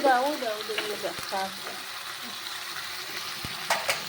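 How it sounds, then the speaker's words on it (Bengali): Masala spices fry and sizzle in a pan for a snail (guguli) dish while being stirred, with soft scraping and crackling and a brief voice at the start. "সুন্দরভাবে আস্তে আস্তে ধীমে ধীমে মশলাটা কষতে হচ্ছে, যেন লেগে না যায়, পুড়ে না যায়"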